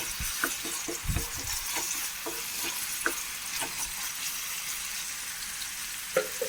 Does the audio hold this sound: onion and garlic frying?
yes